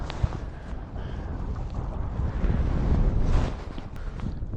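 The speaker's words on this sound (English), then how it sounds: "That wind is rocking up. I'll give it a second, hopefully that gust will pass." Gusting wind at a reservoir during a fishing match, a steady roaring rumble that buffets the microphone and swells midway before easing, with no voices.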